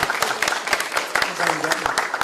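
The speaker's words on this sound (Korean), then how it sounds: "다시 한번 뜨거운 박수 부탁드리고요" Supporters at a Gwangju election campaign committee rally for presidential candidate Kim Moon-soo clapping in a rhythmic, fairly close burst of applause, with voices mingled beneath it.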